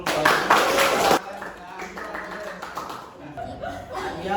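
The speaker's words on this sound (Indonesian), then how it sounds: "Iya, kasih tepuk tangan dulu." A high school class claps for about a second in a short burst, then the room settles into light chuckling, taps and murmured voices.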